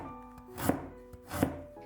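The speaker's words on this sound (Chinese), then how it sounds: "1块生姜先切成薄片" A knife cuts a piece of fresh ginger into thin slices on a board, two distinct slicing strokes with a soft chopping thud, close and moderately loud, alone without speech.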